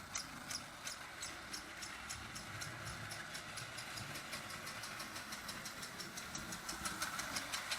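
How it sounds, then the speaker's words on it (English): A reconditioned Marx toy train engine with a chug-chug sound runs close by, giving a fast, steady mechanical rhythm of repeated clicking chuffs over a faint motor whir, with no voices. "it's got the chug-chug sound"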